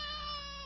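A cat meows once in a sustained, tonal cry with a steady pitch and rich harmonics. The cat is grinning and sits in a pepper-filled kitchen where a baby has been sneezing and howling. The meow is close and clear, with no talk.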